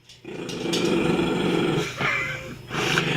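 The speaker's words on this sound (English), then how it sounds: "But you can hear him growling." A dog growls low and continuously, close by, with a brief pause before the rumbling resumes.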